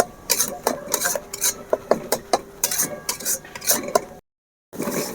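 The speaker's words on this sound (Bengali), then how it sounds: "হালকা জালে এভাবে খুন্তির সাহায্যে অনবরত নাড়তে হবে, না হলে কিন্তু নিচটা বসে যাবে।" A spatula stirs mango cream made with ripe mango and powdered milk in a pan over low heat: rhythmic, close scraping and clinking strokes against the metal, briefly pausing before resuming.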